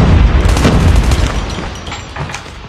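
A Semtex grenade explodes in the Call of Duty Mobile multiplayer game, a loud close boom that opens the clip and fades through a rumbling, crackling tail.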